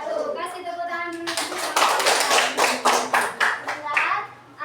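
Classmates clap after a group presentation in an Indonesian classroom, a burst of distinct hand claps from a small group, preceded by children's voices and fading out near the end.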